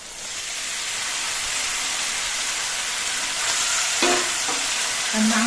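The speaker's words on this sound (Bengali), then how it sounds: "এবার আমি মাংসগুলো দিয়ে দিচ্ছি" Mutton pieces dropped into spices frying in oil, setting off a loud, steady sizzle that builds and holds, with a few clinks of a utensil against the pot toward the end.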